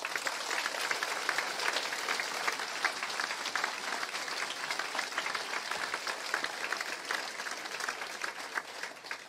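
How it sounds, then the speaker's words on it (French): An audience at a university graduation ceremony applauds the professors, with dense, steady clapping filling the hall throughout and a faint murmur of the crowd beneath. "On les applaudit, s'il vous plaît."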